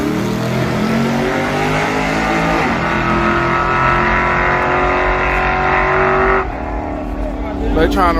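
A Chevrolet Caprice engine revs loudly and steadily at a car shootout event, its pitch rising and falling in waves, with talking over it.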